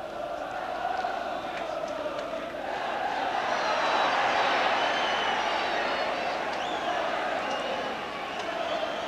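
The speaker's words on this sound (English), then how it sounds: "Angry Swindon crowd reaction to the decision not going their way." Large football crowd at a Swindon Town versus Bristol City match roaring in anger, a dense sustained wall of jeers and shouts that swells in the middle and stays loud throughout.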